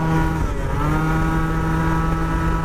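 Scooter engine held at a high, strained rev with a new exhaust fitted, a steady buzzing drone close by with strong tonal whine and no pauses.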